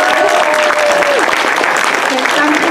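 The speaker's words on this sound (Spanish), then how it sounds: "Big round of applause for the filmmakers presenting their films tonight" Loud, dense applause from a screening audience greeting the filmmakers at a film premiere, steady and sustained throughout with a brief tonal whistle or ring in the mix.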